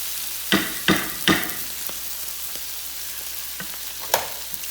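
Squash sautéing in a pan on a stove: a continuous sizzle broken by several sharp utensil scrapes and knocks, three close together early on and one more near the end.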